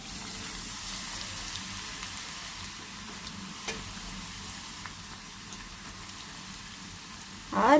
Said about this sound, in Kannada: ಎಣ್ಣೆ ಬಿಸಿ ಆದಮೇಲೆ ಕ್ಯಾರೆಟ್ ತುರ್ಕೊಂಡಿದ್ದೀನಿ ಮತ್ತು ಆರೆಂಜು ಸಿಪ್ಪೆ ಹಾಕೋತಾ ಇದ್ದೇನೆ